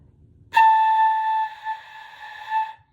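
A single clear, steady tone blown on a flute head joint alone starts abruptly and holds for about two seconds with a slight waver, then fades out.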